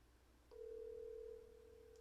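A single steady ringback tone on an unanswered phone call, one faint, even electronic beep of about a second before falling quiet.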